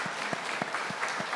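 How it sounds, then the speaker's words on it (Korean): Applause welcoming guests during a church anniversary thanksgiving service, a short burst of clapping with sparse, distinct claps in a steady rhythm, moderately near. "우리 박수로 환영하겠습니다"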